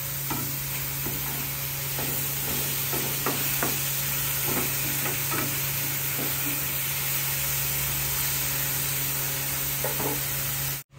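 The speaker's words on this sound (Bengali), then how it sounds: "একদম হাই ফ্লেমে একটু নাড়াচাড়া করে নেবো যাতে ভেতরের যে জলটা সেটা" Taro root and prawns are stirred in a pan over a high flame. A loud, steady sizzle runs throughout, with repeated scraping strokes of the spoon across the pan.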